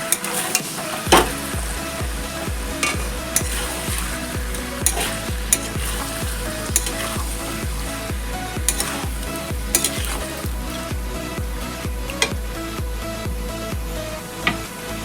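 Ground cumin, coriander and turmeric being stirred and fried over medium heat in a pan for chicken curry, a continuous close sizzle with a regular rhythm of spatula scrapes throughout.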